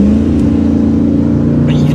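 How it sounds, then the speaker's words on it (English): A Mercedes-Benz G55 AMG on a snowy road, its engine holding a steady, loud, low drone throughout, close by, with no clear rise in revs. "And listen to the G55 just roaring."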